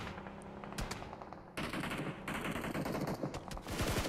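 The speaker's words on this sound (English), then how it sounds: "But it's Matic to finish off Nerzud off in the distance. Good shots from him." Gunfire in the mobile battle royale game PUBG Mobile, with quick bursts of automatic shots and a few single reports, some sharp and near, others rapid and rattling, fairly quiet overall without talk.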